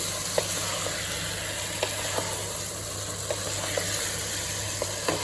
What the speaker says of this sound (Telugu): నెక్స్ట్ మ్యారినేట్ చేసుకున్న చికెన్ని యాడ్ చేసుకొని కొద్దిసేపు బాగా ఫ్రై చేసుకోవాలి.